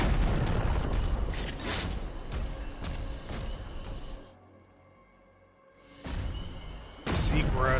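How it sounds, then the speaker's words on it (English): Cannons firing from a watchtower in Doom: The Dark Ages: heavy booming blasts over a dense battle din, a quieter lull in the middle, then loud impacts return near the end, with a voice talking over the game. "cannons in the watchtower can clear a path"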